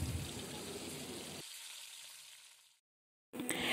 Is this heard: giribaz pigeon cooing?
no